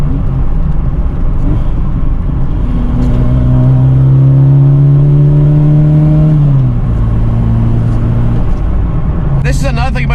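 A 1986 Ford Capri with a 2.0 Pinto engine drones loudly from inside the cabin while driving. The engine note rises steadily, then drops as the car shifts, with a slightly uneven, spluttering edge. A voice talks over it.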